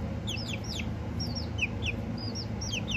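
Several chickens cluck and chirp in short, rising calls, repeated steadily over a constant low hum, fairly close by.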